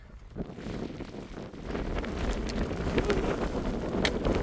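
Strong wind roars steadily across a mountain summit on the Appalachian Trail, a broad continuous buffeting that swells louder toward the end, with gusts pounding the microphone and no voices.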